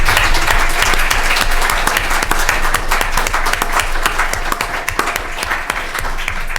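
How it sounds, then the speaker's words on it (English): Steady, full audience applause at an annual general meeting of a library association, loud and even throughout with dense overlapping claps and no voices. "perhaps we could give them a round of applause as well"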